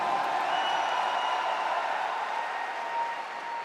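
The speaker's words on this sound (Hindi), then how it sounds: "एक जोरदार तालियां होनी चाहिए।" A crowd gives steady applause at a success-speech event in Ranchi, a dense, even wash of clapping that sounds somewhat distant and keeps up without a break.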